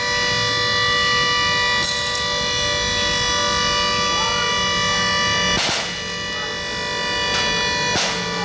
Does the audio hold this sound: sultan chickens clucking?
no